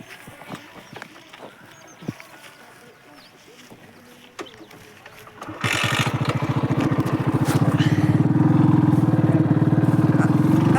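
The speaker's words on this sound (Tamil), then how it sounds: "பாருங்க வண்டி எடுக்கிறோங்க" A motorcycle engine starts up about halfway through, then settles into a loud, steady running drone as the bike pulls away and rides off, with scattered handling noises and a few knocks beforehand.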